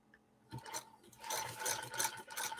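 A very rare 1948 Frister & Rossmann sewing machine stitching through denim, giving a faint, rapid mechanical ratcheting whir that starts after a short pause and runs steadily, with no talk over it.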